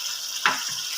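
Finely chopped green chillies go into a pan of potatoes frying with cumin seeds, giving a short sharp sizzle over a steady hiss of oil.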